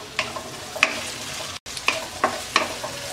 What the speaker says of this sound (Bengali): আলুটা পেঁয়াজের সাথে 2 থেকে 3 মিনিটের মতো ভেজে নেব